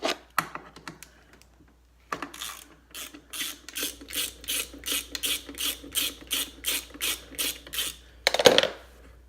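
A 12 mm ratchet works a brake caliper bolt loose on a Honda Reflex scooter, clicking in a fast, even run of close, crisp ratchet bursts that ends with a louder metallic clunk.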